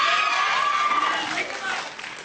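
Studio audience clapping and cheering during a talk-show interview, a dense steady wash of applause that holds loud, then thins slightly toward the end.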